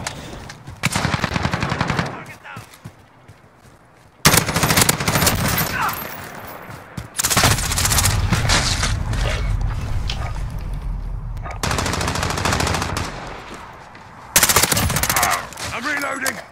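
Call of Duty Modern Warfare firefight with loud bursts of automatic gunfire in several long stretches separated by brief lulls, close and heavy, with occasional voices in the mix.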